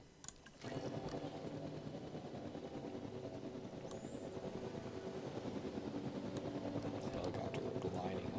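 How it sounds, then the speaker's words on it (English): A helicopter in the Jurassic World Evolution 2 dinosaur park game starts up after a short click, then a steady, fairly faint rotor drone runs on and slowly builds with faint ticks over it. "Helicopter lining up"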